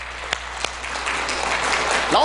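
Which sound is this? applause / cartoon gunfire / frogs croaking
applause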